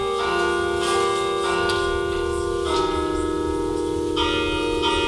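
Restored church carillon bells ring out with sustained, overlapping tones, new strikes arriving every second or so and layering over the lingering hum of the earlier ones.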